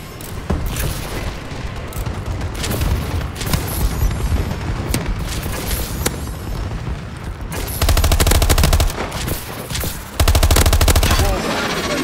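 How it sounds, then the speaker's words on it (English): Dense video game gunfire and explosions during a friendly bombing run, with continuous rattling shots and heavy booms that swell louder toward the end. "Friendly bombing run incoming."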